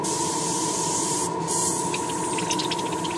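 Airbrush back-pressure bubbling metallic paint inside the color cup, a steady close hiss of air with fine gurgling bubbles rising through the paint, no voices.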